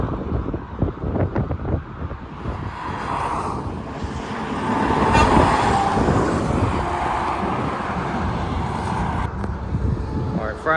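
Kenworth and Freightliner trucks passing on I-10, a steady roar of heavy traffic with wind buffeting the microphone, swelling as a truck goes by mid-clip and holding loud to the end.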